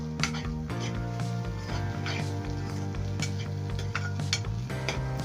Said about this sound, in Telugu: చిన్నగా మాడకుండా మొత్తం చక్కగా తిప్పుకుంటూ వేయించుకోండి